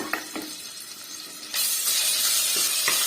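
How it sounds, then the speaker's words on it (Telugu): Ginger garlic paste sizzles in hot oil for a spinach egg curry, a steady frying hiss that grows louder partway through, with a few soft clinks near the pan and no voices. "దాంట్లో కొంచెం అల్లం వెల్లుల్లి పేస్ట్, కర్రీకి సరిపడా అల్లం వెల్లుల్లి పేస్ట్ వేసుకుంటున్నాను. ఇది కూడా కొద్దిసేపు వేయించుకుందాము."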